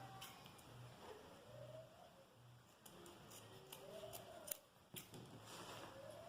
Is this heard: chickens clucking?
no